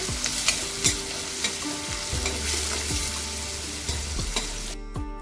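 Chopped onion and a split green chili frying in a pan, a steady sizzle under repeated scraping stirs of a spatula against the metal, close and continuous, no voices.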